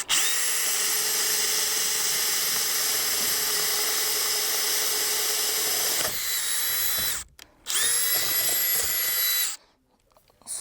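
A power drill boring a pilot hole into a wall between studs during home run cable installation, running loud and steady for about six seconds, stopping, then whining again in two shorter bursts with brief pauses.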